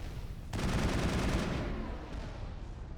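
Gunfire from the Mako tank in Mass Effect, with its main cannon in action: a sudden loud burst of rapid, dense shots that starts after a short pause and keeps up steadily to the end.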